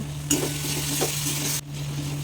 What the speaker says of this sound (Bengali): এবার সব মশলাগুলো একসাথে ভালো করে কষিয়ে নেব